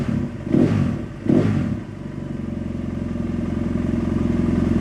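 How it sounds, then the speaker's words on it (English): A motorcycle engine tuned with a Dynojet PC-5 Autotune gives two short blips, then settles into a loud, steady, smooth idle with an even low-pitched throb. "we have a beautiful smooth idle"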